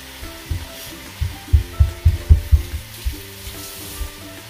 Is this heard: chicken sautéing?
yes